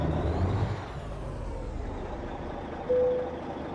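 A heavy truck hauling a trailer of canola in American Truck Simulator rolls to a stop to park, with a low steady engine rumble and a short hiss of air brakes near the end.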